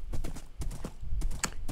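Horse hooves clip-clopping along in Minecraft, a steady run of close, moderately loud hoofbeats with no talking.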